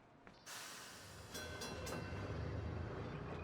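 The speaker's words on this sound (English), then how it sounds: "now we can ride the train." A train in the puzzle game Gorogoa pulls away with a rising hiss and rolling rail rumble that swells and holds steady, with no voices over it.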